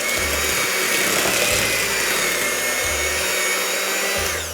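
An electric mixer whirs loudly and steadily as it creams cookie dough with eggs, the motor pitch shifting slightly as the beaters work, close and continuous with no talking.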